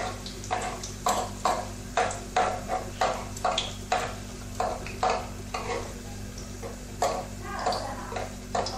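Sfenj doughnut dough fries in hot oil in a pan, giving a close, steady sizzle broken by repeated bursts of bubbling as pieces are stirred and turned.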